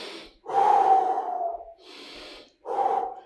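Heavy, forceful breaths during an abdominal core exercise, three loud huffing exhales and inhales in an uneven rhythm, close and alone.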